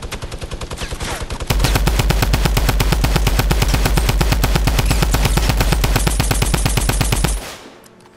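Sustained rapid automatic gunfire in the video game Fortnite: a loud, fast, evenly spaced stream of shots runs for about six seconds, preceded by quieter bursts and ending abruptly.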